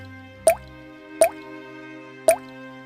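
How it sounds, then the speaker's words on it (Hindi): Water drips from the leaking roof of an old, cracked mud house in a village, three clear separate plinks spaced about a second apart in a quiet room. "छत से पानी टपकता था।"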